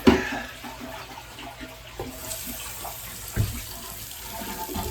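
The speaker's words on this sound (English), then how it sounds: "Try the faucet in here, flush the toilet." Water runs steadily from a bathroom faucet into the sink, a continuous hiss and splash close by with no talk over it.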